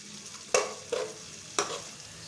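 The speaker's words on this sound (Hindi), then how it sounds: "प्याज को हम तेज़ ब्राउन कर लेंगे" Onions browning in a pan over a normal flame, a quiet low sizzle broken by three sharp scraping strokes of a spoon stirring, with no talking.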